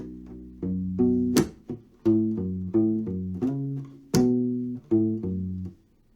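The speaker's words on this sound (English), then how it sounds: "the whole measure sounds like this" A U-Bass playing a funky groove measure, plucked low rubbery notes in a syncopated rhythm broken by two sharp strummed chord hits, close and alone.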